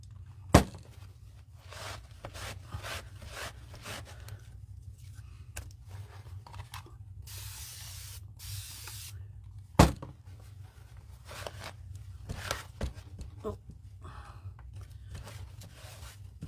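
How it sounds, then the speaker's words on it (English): Two short hissing bursts from a spray bottle during art journaling come back to back midway, surrounded by quiet rustling and a couple of sharp clicks. "Just give it a little spray front and back"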